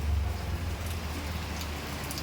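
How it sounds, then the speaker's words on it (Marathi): Steady rain hisses evenly throughout in Nala Sopara, Mumbai, a soft continuous wash of drops with a low rumble underneath. "पाऊस पडतोय बघा आज तिकडे"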